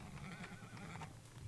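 A horse neighs and whinnies in the Wild West DLC of the video game Teardown, the call rising over a dense bed of game background noise for a brief moment.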